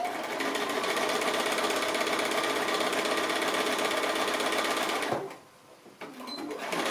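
A sewing machine runs a straight stitch close to the edge of cork fabric for a card wallet, whirring steadily and loudly for about five seconds, then stopping before a brief, quieter restart.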